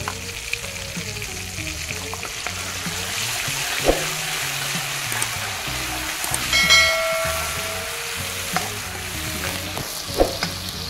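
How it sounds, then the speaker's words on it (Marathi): Masala spices fry for a chicken curry, a continuous sizzle with occasional stirring clatters and a few sharp clinks, fairly loud and close, with no talking. "मसाला तळून घेते आता"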